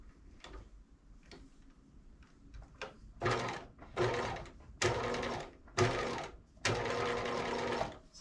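Domestic sewing machine restitching a short seam on a capelet, first soft ticks and handling sounds, then several close bursts of rapid stitching separated by short pauses.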